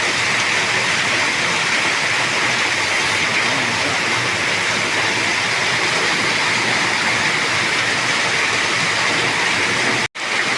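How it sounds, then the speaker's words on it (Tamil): Heavy rain pours down in Pondicherry in front of a shop, a dense, steady, loud roaring wash that holds unbroken for the whole stretch, with only a brief dropout near the end and no talking. "மிக அதிக கனமழை பெய்கிறது பாண்டிச்சேரியில்."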